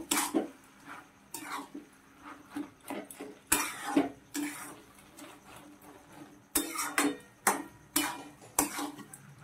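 Sugar is stirred into food in a pan, with a series of quiet, sharp clinks and scrapes from a utensil against the pan coming in uneven bursts, some in quick succession, close up and fairly faint.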